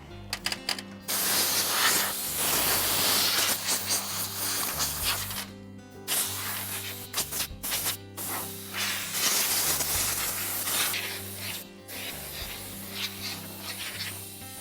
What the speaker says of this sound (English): Now I'll use compressed air to blow the dirt out of the tracks.